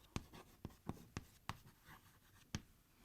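A pen scratches out a journal entry on paper in a quiet room, with several short, crisp strokes and taps spaced irregularly across a few seconds.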